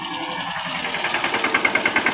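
A machine runs at a village soil-mining site where tractors are loaded, a steady mid-pitched engine chug that grows more rhythmic and pulsing toward the end.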